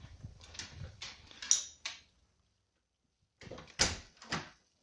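A back entrance door leading to the parking area of a house opens and shuts, with close knocks, rattles and scrapes in two bursts separated by a silent gap.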